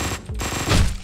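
Gunfire from a gun in the video game Hotline Miami 2, a rapid burst of sharp shots packed into about a second, loud and close, with no speech over it.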